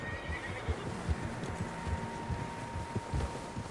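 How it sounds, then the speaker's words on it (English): Horses in the video game Red Dead Redemption 2 neigh faintly amid steady game ambience, with soft rhythmic thuds like hooves underneath throughout. "Horses, quite a few of them."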